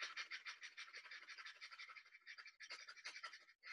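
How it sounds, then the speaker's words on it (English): Rapid rhythmic breathing in and out through the nostrils as a fire-breath exercise, a quick steady run of close, breathy puffs that speeds along before a short pause near the end. "Breathing in out of the nostrils 10 times fast, fire breath."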